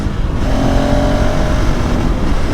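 A KTM 390 Adventure S motorcycle engine is ridden hard, and the loud, close engine roar rises in pitch under acceleration without any talk.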